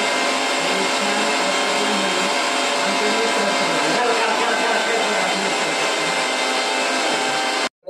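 A blender grinds peeled banana with jaggery in a loud, steady motor whine that holds for several seconds before stopping abruptly at the end.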